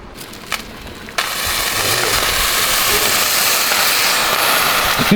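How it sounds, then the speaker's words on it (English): A pot boils over in a kitchen: after a couple of faint clicks, a loud, steady hiss and sputter erupts and continues up close. "It's boiling over."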